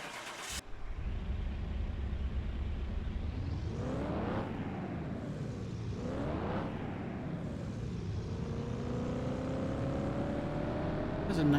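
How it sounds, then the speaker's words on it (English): An Aston Martin Vantage sports car runs on a dyno, its engine climbing through several rising rev sweeps with gear shifts in between, loud and close, building to a sustained high-rpm roar near the end. "Has a nice sound to the engine"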